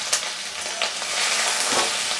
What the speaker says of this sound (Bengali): হলুদ আর নুন দিয়ে অল্প একটু ভেজে নিব।